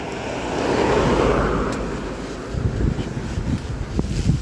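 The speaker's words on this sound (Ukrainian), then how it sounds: "Вітер такий, щось і теплий вітер." Gusting wind in Ireland roars and buffets the microphone, swelling then easing into rough, uneven rumbling with no talking.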